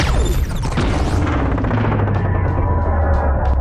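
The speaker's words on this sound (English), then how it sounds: "slow motion explosion" A dense, loud rumbling blast stretched out and drawn low, with crackling debris and a descending whoosh, slowed down and continuous throughout.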